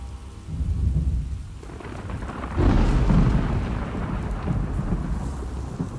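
Heavy rain and rolling thunder in the video game The Last Of Us Part 2, a steady downpour with a loud thunder crash partway through that swells and lingers, no voices.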